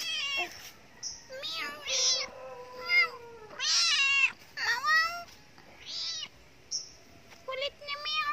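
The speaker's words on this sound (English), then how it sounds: "Kulit na meow." A cat meows repeatedly near a little girl, a string of clear, close, drawn-out meows spaced across the stretch, with a few high calls in between.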